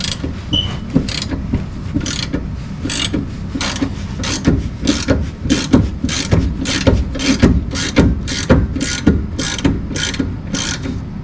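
A ratchet works a bolt loose on a 1992 Honda Civic Si, with about a dozen evenly spaced, sharp clicking strokes close by, separated by brief pauses and soft metallic rubbing.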